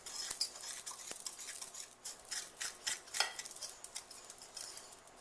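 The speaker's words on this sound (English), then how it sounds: "I'm going to take a little whisk and I'm going to kind of whisk it all together" A small whisk stirs sugar, cocoa powder and salt in a saucepan, making quiet, rhythmic scraping and tapping strokes close by with no voices.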